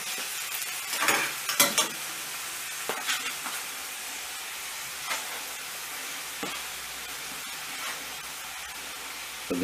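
Minced meat sizzles and hisses steadily in a pan while being stirred, with scattered scraping and clinking of the utensil and soft crackles, fairly quiet and with no talk.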